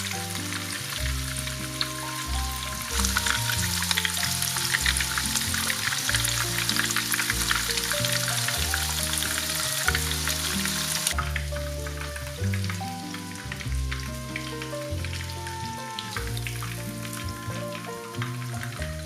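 Breaded shrimp frying in hot oil for a homemade bento, a loud, close, continuous crackling sizzle with dense popping that stays steady throughout, with no voices.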